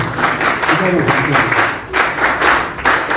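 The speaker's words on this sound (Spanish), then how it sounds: "Elías Grijalva Alvarado, lo recibimos con fuertes palmas, por favor." An audience at a formal event claps loudly to welcome a speaker, a dense steady round of applause with rhythmic pulses and voices mixed underneath.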